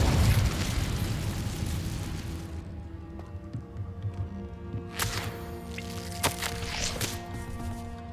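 An Incendio fire spell cast in Hogwarts Legacy bursts out as a loud whooshing blast of flame that fades over about two seconds, followed by quieter crackling, soft ambient tones and a few sharp pops.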